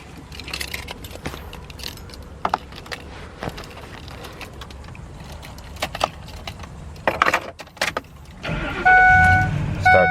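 A 2007 Ford E250 extended wheelchair conversion van with a 5.4 liter V8, keys jangling and clicks before the engine cranks and catches near the end, settling into a loud close idle.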